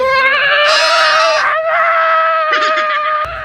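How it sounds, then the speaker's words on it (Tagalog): A pig squeals shrilly and continuously as if being slaughtered, a loud, harmonic, bleating scream that wavers in pitch and surges near the middle, heard close and mostly alone. "Murag nag-iihaw baboy ba?"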